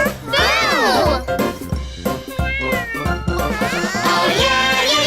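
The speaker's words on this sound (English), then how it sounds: "We found our cat, Boo." A cartoon ginger cat meows repeatedly in bright, sliding calls over a jingling nursery-rhyme backing track, loud and close throughout.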